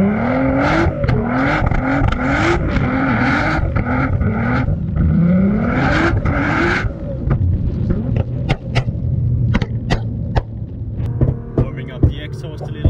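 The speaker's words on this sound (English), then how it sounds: "Warming up the exhaust a little bit." A 900 hp Nissan R35 GT-R has its exhaust warmed up with a string of rising revs and throttle blips over a steady idle, then settles to a rumbling idle dotted with sharp crackles and pops.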